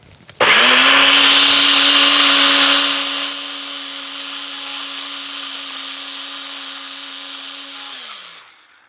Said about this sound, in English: So I'm going to turn the blender on.